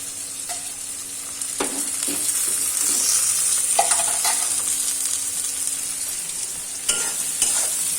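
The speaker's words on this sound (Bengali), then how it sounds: "এদিকে কাকড়ি ভাজাটা ভালোই হচ্ছে" Steady frying sizzle of crab in a pan, with a few sharp clinks and scrapes of stirring breaking through now and then.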